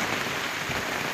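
Heavy rain pours steadily onto an open-air theatre stage, a dense, loud, unbroken hiss with no pauses.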